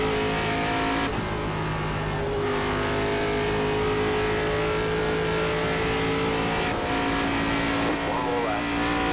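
An ARCA Series race car engine at Dover in iRacing holds a steady, loud drone with shifting harmonic tones as the driver backs off. A voice talks over it in places.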